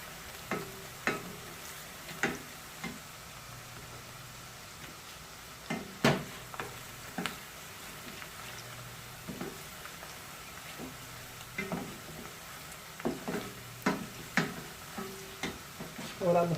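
Whole garam masala spices fry in hot oil for a vegetable biryani, giving a soft, steady sizzle. Faint taps and scrapes of stirring recur throughout at low volume.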